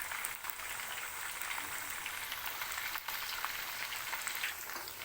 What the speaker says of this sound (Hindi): इसी तरह हम दोनों साइडों से इसे थोड़ा सा फ्राई करके 5 मिनट तक